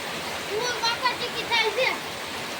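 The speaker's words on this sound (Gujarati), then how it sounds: "ભાઈ જોરદાર વરસાદ આવે છે" Heavy rain pours down steadily as a broad, continuous wash of noise, with someone talking over it throughout.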